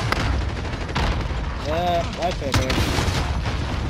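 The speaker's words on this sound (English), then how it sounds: "y'all using a fucking rocket launcher" Explosive rocket launcher blasts in the Call of Duty: Modern Warfare video game, heavy booming gunfire running through the whole stretch amid game effects, with someone talking briefly over it.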